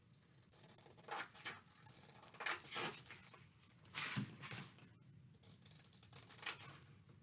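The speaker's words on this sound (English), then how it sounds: "These are horrible scissors, and they're brand new." Brand-new scissors snip through canvas in a series of short, crisp crunching cuts with small pauses between them, close and fairly quiet.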